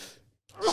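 A man sneezes sharply during a casual podcast chat. A breathy intake trails off into a brief silence, then a forceful sneeze bursts out close to the microphone.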